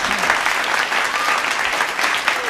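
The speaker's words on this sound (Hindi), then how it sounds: "ताली हो जाए साहब एक बार मुझे।" A live comedy audience claps steadily and loudly at a parody show. The dense applause is sustained and fills the whole stretch, with no clear talking over it.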